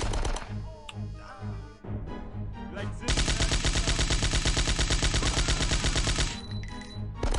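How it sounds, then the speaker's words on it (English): A flashbang grenade goes off in the Die Hard: Nakatomi Plaza video game amid dense, rapid gunfire, with a loud sustained burst of shots and blasts dominating the middle stretch. "I'm gonna run because there's a flashbang."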